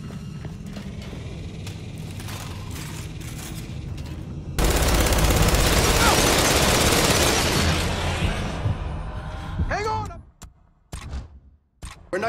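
Turrets firing in the video game Gears 5, a loud sustained roar of gunfire that swells midway, then breaks off into a few sharp mechanical bursts and whines near the end, with no talk.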